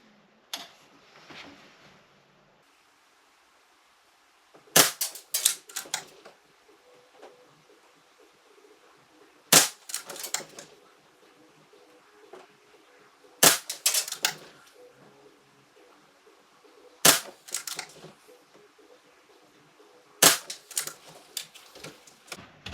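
Kral Puncher K side-lever air rifle fired in a test, five sharp loud cracks spaced roughly four seconds apart, each followed by clicks and handling rattles of the lever being cycled, close and without talk.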